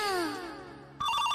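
A phone rings loudly in a homemade Hindi comedy sketch: a brief electronic ringtone with a falling tone, then a brighter repeating tone pattern.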